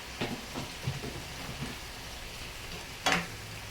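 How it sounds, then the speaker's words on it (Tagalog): Chicken breast sautéing in a pan for a Filipino tomato chicken dish with pechay, giving a soft, steady sizzle with a few light clatters of stirring and one sharper knock near the end. "Gigisahin din natin yung chicken."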